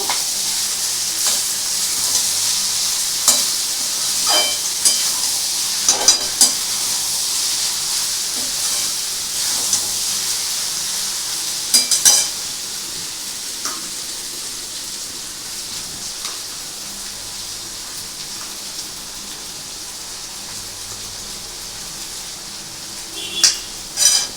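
Mixed fried rice ingredients frying and being stirred in a pan, a steady soft sizzle with occasional sharp spatula scrapes and clinks scattered through, close and continuous, with no talking.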